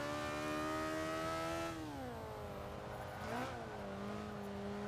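Alfa Romeo Stradale 33 engine in the Forza 5 racing game, droning steadily and loud with harmonic pitch that dips and then climbs again as the car pulls through a corner and accelerates.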